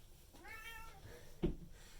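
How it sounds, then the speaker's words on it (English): A house cat gives a single clear, drawn-out meow close by in a quiet room, followed by a brief soft thump. "That's my kitty."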